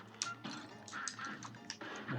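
Cartoon ducks quack in the Cuphead video game, a quick run of about seven short nasal quacks in uneven rhythm over a low game music bed, moderately loud with no talking.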